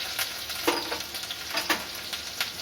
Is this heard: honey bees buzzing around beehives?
no